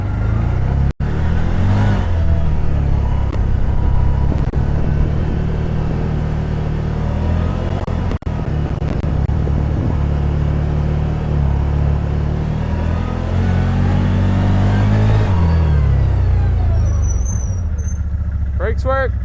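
A 2021 CF Moto ZForce 950 Sport side-by-side driving loops in eco mode on asphalt, with a steady close engine hum that rises and falls with throttle, brief squeals and clicks, and a person talking over it.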